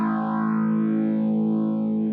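A sustained, heavily distorted electric guitar chord from an Artist LP59 guitar through a NUX amplifier's rock mode rings out loud and steady, thick with overdrive, reverb and a faint swirling effect.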